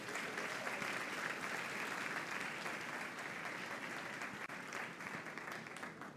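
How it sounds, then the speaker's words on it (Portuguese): Church congregation applauds during a sermon, producing a continuous, thick wash of clapping that holds steady for several seconds, somewhat distant and subdued. "Você pode aplaudir esse Deus?"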